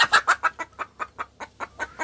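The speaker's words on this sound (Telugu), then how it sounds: "వీడియో తీస్తున్నానని కోడి కోపం వచ్చింది" A hen, angry at being filmed, clucks loudly and close by in a quick, agitated series of about a dozen sharp clucks, evenly spaced with no other sounds around them.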